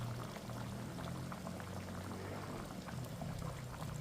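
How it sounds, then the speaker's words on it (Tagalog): Fish sauce is poured into a pot of simmering beef pares, a soft liquid trickle over the gentle bubbling of the broth, quiet and close, with no voices. "So, magdadagdag lang ako ng konting patis."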